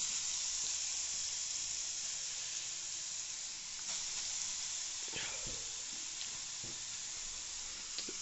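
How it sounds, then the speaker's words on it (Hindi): Grated carrot dropped into heating milk for gajar halwa, with a steady broad sizzling hiss throughout and a few soft thumps and clatters of stirring partway through. "तो देखिए ये गाजर का क्रश किया हुआ अब इसमें जा रहा है"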